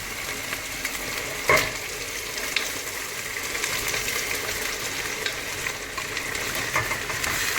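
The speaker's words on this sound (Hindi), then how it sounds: "ये मसाला हमारा अच्छे से भून चुका है और हम इसके अंदर ऐड करेंगे अपना गोश्त" Mutton dropped into fried spice masala in a pan: a sharp clatter early on, then a steady, close sizzle with soft stirring scrapes throughout.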